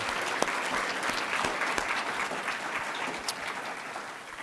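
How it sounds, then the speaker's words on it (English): An audience at a Boise State media literacy symposium claps in steady, moderately distant applause that holds evenly for several seconds, with no voices over it. "just a round of applause"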